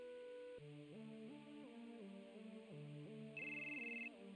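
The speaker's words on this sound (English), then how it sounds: "Oh, Cloud got the phone call." Cloud's phone in Final Fantasy VII plays a quiet melodic ringtone, a looping run of electronic notes in a repeating pattern, joined near the end by a brief higher beeping tone, with no voices.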